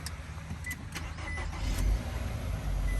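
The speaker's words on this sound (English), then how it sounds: "as you can see, the vehicle is started" A Nissan car started by push button with the brake held, a low engine rumble building steadily and loudly up close, with no talk over it.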